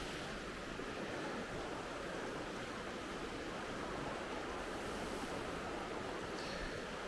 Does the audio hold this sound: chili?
no